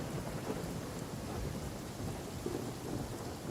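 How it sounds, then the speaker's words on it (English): Rain pours steadily with rolling thunder during a stormy scene in the video game Genshin Impact, set at the Lantern Rite festival. The downpour is dense and continuous, with low rumbles throughout and no voices. "it's a shame that it started raining"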